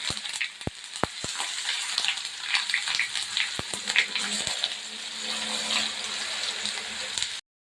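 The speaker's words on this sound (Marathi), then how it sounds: "मी तर मच्छी फ्राय करून घेते." Fish fries in a pan, a continuous close crackling sizzle with a few sharp clinks near the start, then a sudden cut to silence at the end; no one speaks.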